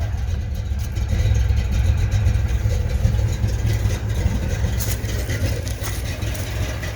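A 1983 Ford Mustang Fox-body engine with a swapped carburetor idles steadily and loudly up close, a low rumbling drone holding even throughout.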